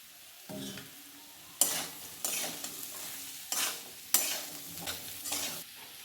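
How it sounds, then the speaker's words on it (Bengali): Fish roe goes into a pan of spiced, salted ingredients and is stirred while frying. Close, lively sizzling comes in repeated scraping bursts as the spatula works through the pan, with no talking. "এবার মাছের ডিমগুলো আমি দিয়ে দিচ্ছি এর মধ্যে।"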